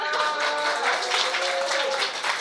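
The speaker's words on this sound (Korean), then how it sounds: "그래서 박수!" A small audience claps for an interview, giving a continuous, dense spatter of applause that stays even and close across the whole moment.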